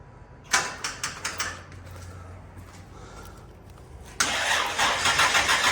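An old car engine with a bad exhaust leak, started after sitting for years, cranks with a rapid rhythmic starter churn, stalls briefly, then catches and runs with a loud, rough, sputtering idle.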